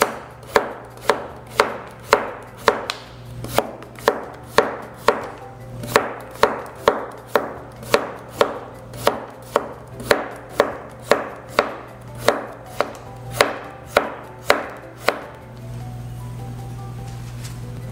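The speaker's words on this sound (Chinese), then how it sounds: "小黄瓜切丝，先去头、去尾" A knife chops cucumber into strips on a cutting board in about two dozen crisp, evenly spaced taps that stop just before the end.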